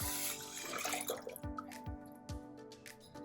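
Heated water pours steadily into a pot of rice for jeera rice, with a few sharp knocks and clinks of metal partway through and no talking.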